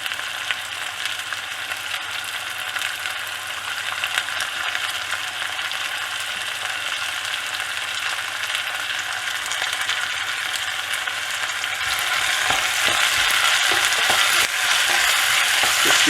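Beef fillet and chicken pieces sizzle loudly in hot oil while being stirred, a steady crackling fry with scraping stir noises that grows brighter and louder toward the end, no voices.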